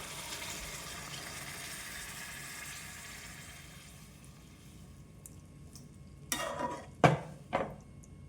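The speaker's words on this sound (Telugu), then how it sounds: "ఇప్పుడు ఇందులో వాటర్ వేసుకుందామండి" Water is poured into a pot of bottle gourd curry with a soft wash that fades out, followed by a few sharp metallic clinks of a utensil against the pot, quiet and close.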